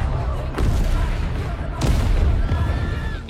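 Cinematic explosions go off in a city in the dictator-ruled country of Turgistan: two heavy booms about a second apart, with rumbling debris and a dense action-movie soundtrack between them.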